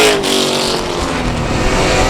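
Race cars roar past on the South Texas Speedway oval in the final lap, engines loud and close with a dense, rising rumble and no voices.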